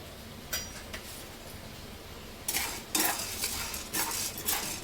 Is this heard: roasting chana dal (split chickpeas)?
yes